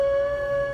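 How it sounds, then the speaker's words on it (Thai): A dog howls in a single sustained, steady tone at moderate distance, with no other sounds over it. "ก็ยังเป็นเสียงสุนัขที่หอน"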